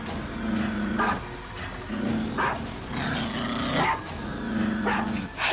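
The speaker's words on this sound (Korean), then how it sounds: "해피가 짖는 소리에 눈을 떠보니까 제 방이었더라고요." A pet dog barks in repeated bursts, each a short cluster of sharp barks with a growly edge, coming in a steady rhythm about once a second or so, fairly loud and close, with no talking.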